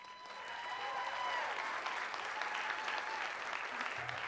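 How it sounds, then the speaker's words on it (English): At a live show in a theatre venue, an audience breaks into applause that swells over the first second and holds as steady, dense clapping, fairly soft and set back in the room. "You all deserve a round of applause."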